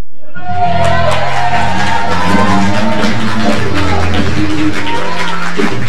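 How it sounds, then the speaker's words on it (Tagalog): Crowd of worshippers at an El Shaddai chapter gathering in Doha, Qatar, applauding and cheering in praise, loud sustained clapping with shouting voices blended throughout the whole stretch. "Yung palakpak niyo sa Panginoon, grabe po talaga."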